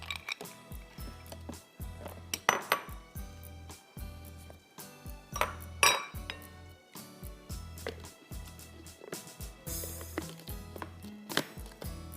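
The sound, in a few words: ice being added to a yogurt drink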